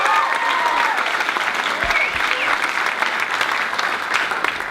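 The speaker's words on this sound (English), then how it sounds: "How about a round of applause for John Carroll?" An audience at a high school awards ceremony claps steadily, a close, full round of applause that carries evenly throughout.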